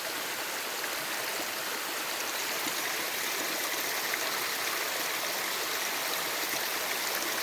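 Cold stream water flows steadily outdoors in nature, a constant broadband rush and trickle with no breaks, moderately loud and close, with no voices.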